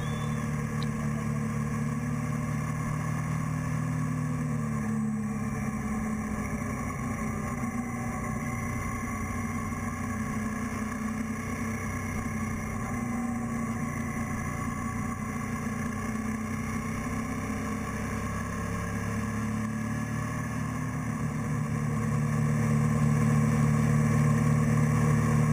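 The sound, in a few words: Aprilia sport bike and motorcycles riding on a road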